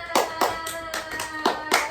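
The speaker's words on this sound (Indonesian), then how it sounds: "Semua tepuk tangan dulu buat kita." A class of schoolchildren clapping hands together, six sharp, fairly loud claps in an uneven rhythm, close by in a classroom with no talking over them.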